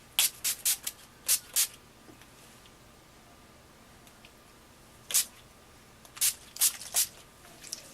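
NYX Dewy Finish setting spray misted onto a face in short bursts: a quick series of five soft pumps, a pause, then another cluster of five sprays, close and fairly quiet.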